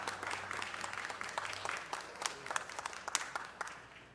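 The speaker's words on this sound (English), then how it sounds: "Let's give them a round of applause and a warm City Hall welcome." A round of applause from the audience at a city council meeting in City Hall, fairly quiet and distant, with scattered sharper claps rising toward the end.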